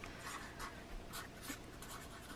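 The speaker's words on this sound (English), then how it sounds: "I'm gonna write the date on here." Pen writing a date on paper while pressing garden flowers, a soft scratchy scribbling of short strokes repeating steadily, close and quiet with no voices.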